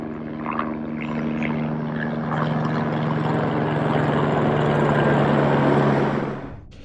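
A helicopter flies over Annapurna Base Camp in the Nepal Himalaya, its rotor and engine drone steady and fairly loud throughout, then cutting off sharply near the end.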